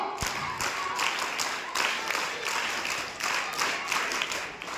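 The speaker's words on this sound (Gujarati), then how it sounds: "5 ટીમ છે એટલે 5 ટીમની તાળીઓ પાડો" A school audience at an Atal Tinkering Lab quiz claps for the competing teams, giving steady bursts of group applause in a rhythmic pattern that repeats through the whole stretch.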